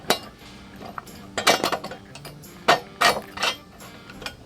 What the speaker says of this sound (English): We're going to slide our front axle through one side of the fork, then through one of these washers, then through your wheel assembly.